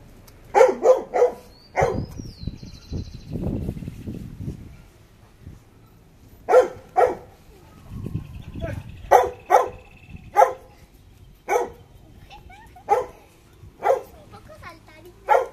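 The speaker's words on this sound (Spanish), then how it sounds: "esta es mi perrita" A small dog barks in sharp, high yaps, in short bursts and doubled clusters, close by, with a person speaking low between the barks.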